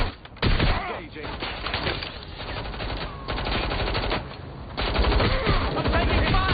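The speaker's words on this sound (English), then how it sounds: "I'm taking fire! I'm under fire!" Rapid automatic gunfire in the video game Watch Dogs Legion, dense bursts of shots firing nearly nonstop, loud and close, with a brief lull mid-sequence before the firing picks up again.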